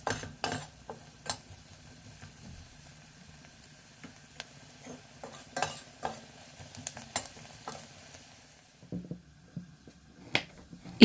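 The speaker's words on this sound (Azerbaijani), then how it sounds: "Unun qoxusu çıxana və rəngi biraz dəyişənə qədər birlikdə qovururam" Flour is stir-fried in a pot as the base for a lentil soup, heard as sparse, faint scrapes and clicks of a utensil against the pot. The sounds come irregularly, with quiet gaps between them.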